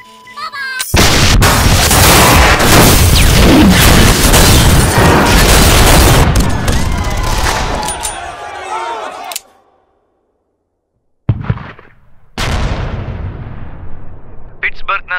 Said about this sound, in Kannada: ಪಿಟ್ಸ್ಬರ್ಗ್ನ ಸ್ನೈಡರ್ ಬಿಲ್ಡಿಂಗ್ ಪಕ್ಕದಲ್ಲೇ ಮತ್ತೊಂದು ಬಾಂಬ್ ಬ್ಲಾಸ್ಟ್ ಆಗಿದೆ